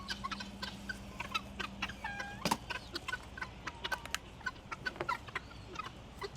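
Domestic chickens clucking repeatedly outdoors on a rural property, a steady scatter of close, moderately loud clucks with brief squawks and no talking.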